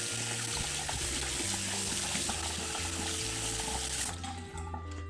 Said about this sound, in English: You want to run it under cold water first.